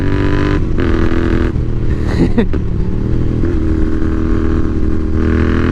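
A Royal Enfield Interceptor 650 motorcycle rides along a country road, its engine droning steadily and loud throughout with wind rush and a few brief rising revs, heard up close from the rider's position with no talk.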